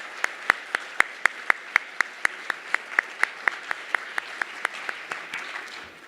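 Audience applause for high school teachers at an evening teaching awards ceremony: a steady run of sharp, evenly spaced claps, fairly close and moderately loud, fading slightly toward the end with no talk.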